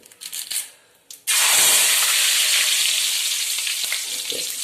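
Curry leaves drop into very hot oil for a peanut roast: a few soft clatters, then a sudden loud burst of crackling sizzle that keeps going steadily, close up and with no talk.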